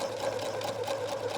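A sewing machine stitches a hem on a loungewear garment with a fast, steady mechanical whir and rhythmic needle pulses, moderately close and with no talking.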